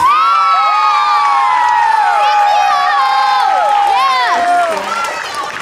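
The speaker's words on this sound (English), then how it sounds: "could we give a hand clap for our beautiful new curtains that PTO bought for us?" Children in an elementary school audience at an 'Annie' show cheer and shout loudly, a continuous wall of high, excited voices with little distinct clapping, easing slightly near the end.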